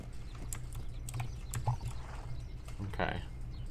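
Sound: horse hooves clip-clopping in a horse riding video game

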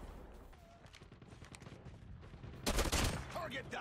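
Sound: burst gun gunfire in COD Mobile video game

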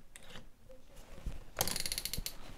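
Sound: drill chuck being unscrewed and tightened

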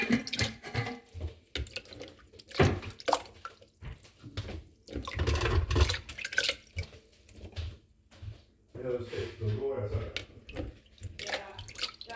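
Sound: washing yellow mushrooms in water

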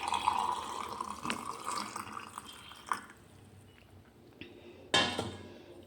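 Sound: boiled cooled warm water poured into gooseberry pickle

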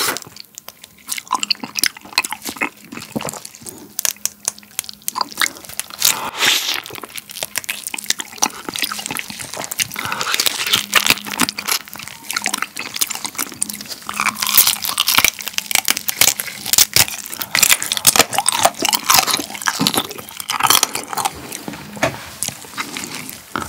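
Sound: eating soy-marinated raw crab, crunching and chewing

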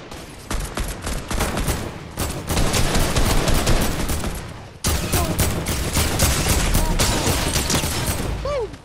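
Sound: heavy assault rifle gunfire in a video game

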